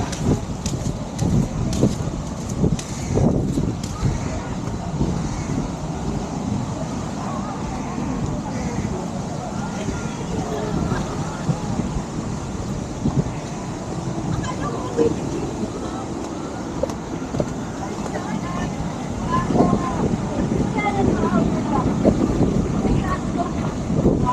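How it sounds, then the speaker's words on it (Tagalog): Sea waves at a beach resort in Morong, Bataan, a continuous rushing wash mixed with wind buffeting the microphone, with people talking intermittently over it. "Alon ng dagat."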